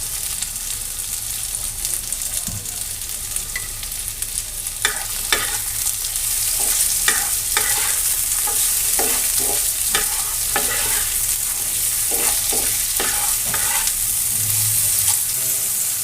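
Chopped tomatoes hitting a hot frying pan and being stirred, a loud steady sizzle with a run of rhythmic spatula scrapes through the middle and later stretch, no voices.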